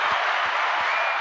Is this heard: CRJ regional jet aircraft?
no